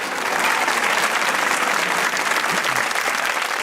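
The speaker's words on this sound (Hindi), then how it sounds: "इतनी तालियां बज गई।" Studio audience applause on a Pakistani TV comedy talk show, a dense, steady roar of clapping lasting the whole stretch, loud and close, with no talk over it.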